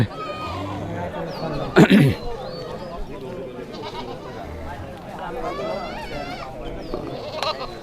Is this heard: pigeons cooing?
no